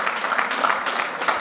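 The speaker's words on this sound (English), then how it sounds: "I would like to have all of you please give a big cheer to yourself and to Michael" Audience at an Amway India leadership summit cheering and applauding for Michael Nelson, a dense, steady wash of clapping and crowd noise filling the whole short stretch without a break.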